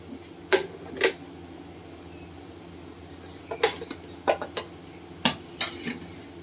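A few sharp clinks and scrapes of a utensil against a pot as fried fish are added to boiling curry, with a low steady hum beneath and quiet gaps between the knocks.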